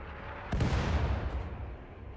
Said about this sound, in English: they're getting beamed by the mortars